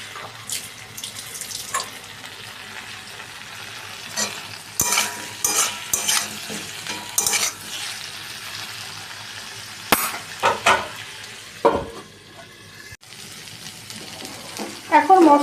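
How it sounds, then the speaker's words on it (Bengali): A fish head fries in a pan for fish kalia, with irregular bursts of sizzling and scraping clatter from the utensils over a steady kitchen background. "তো ওর জন্য এই মুড়োটা ভেজে দিয়ে দেবো মাছগুলোর সাথে।"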